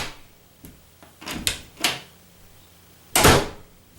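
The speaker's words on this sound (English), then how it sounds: "You still hear the door latch a little bit, this little thing kind of flicking like that" A door with felt pads fitted swings shut, producing a few soft muffled bumps and small latch clicks, then one louder, sharper knock of the latch catching near the end, all close by and with no talk.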